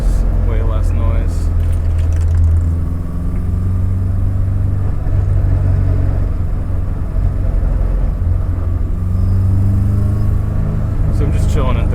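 A K-swapped BMW E30 cruising in third gear gives a loud, steady, rough low engine drone inside the cabin throughout.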